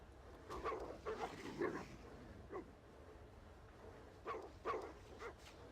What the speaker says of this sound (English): and the dogs attack her.